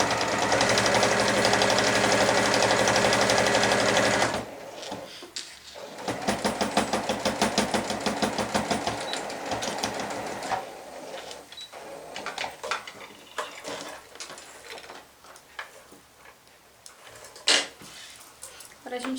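A sewing machine topstitches a shopper bag at stitch length 3 with the needle set fully right, a steady loud run of needle strokes followed by rhythmic stitching bursts and pauses, with handling clicks in between.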